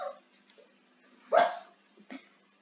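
A dog in the Roblox video game gives a few short, sharp yips, the loudest in the middle, spaced apart and fairly faint, with no talking.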